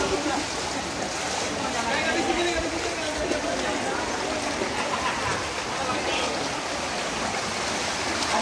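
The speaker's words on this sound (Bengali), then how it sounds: "এদিক দিয়ে পানি নামতেছে, দেখেন কি অবস্থা।" Heavy floodwater runs through narrow village lanes after heavy rain, a steady broad rushing roar like a stream, with someone talking over it.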